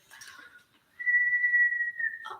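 A single clear whistled note held for about a second in a quiet room during a paranormal investigation, preceded by a brief faint noise and ending with a short sound.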